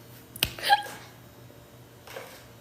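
A woman gives a single sharp, close hiccup-like catch in her throat, followed by a fainter breathy sound a moment later in an otherwise quiet room.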